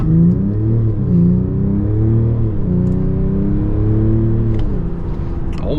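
2025 Mercedes E 450d diesel car accelerating hard with ESC and drive mode in sport, a deep steady engine rumble from inside the cabin with pitch rising and dropping at several gear changes.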